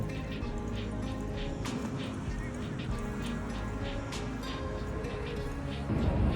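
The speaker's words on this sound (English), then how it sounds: "Rain jacket's looking good, beating off the rain." Rain falls outdoors on a Seattle street, soft pattering and scattered sharp drops ticking against a jacket and nearby surfaces, moderately close over a steady background wash, with a louder rumble swelling at the end.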